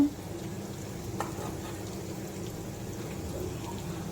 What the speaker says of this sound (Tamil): பெருங்காய கட்டி ஸோ அதுவும் எண்ணெயில் ஃப்ரை ஆகணும்